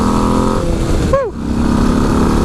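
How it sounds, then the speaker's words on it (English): A 2025 Harley-Davidson Low Rider ST with a 2-into-1 exhaust drones loudly at speed, briefly dipping as it shifts, then pulling steadily again, close up with wind noise. "That 2-1 exhaust sounds fantastic."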